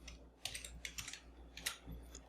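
Typing on a computer keyboard while writing PHP code, heard as a short run of light, irregular key clicks, close and fairly quiet, with no talking.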